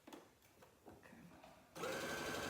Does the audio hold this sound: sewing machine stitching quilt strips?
yes